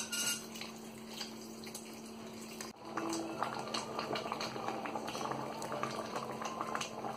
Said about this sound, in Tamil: இந்த மசாலா பூரி நல்லா கொதிக்க ஆரம்பிச்சிருச்சு.